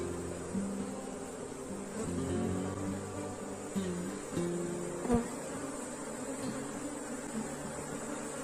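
A small leftover swarm of Africanized honey bees buzzes among hive frames, a steady close drone with shifting whining tones that rise and fall throughout.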